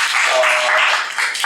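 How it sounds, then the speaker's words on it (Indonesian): Applause from a church congregation during a Sunday service in Surabaya, a steady dense wash of clapping that stays fairly loud and even for the whole moment, with a faint voice briefly under it. "Kita berikan tepuk tangan, ya."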